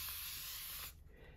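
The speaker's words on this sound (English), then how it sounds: "And then spray." A single short burst of water from a spray bottle hisses onto paper during Posca pen monoprinting, close and clear for just under a second before cutting off to near silence.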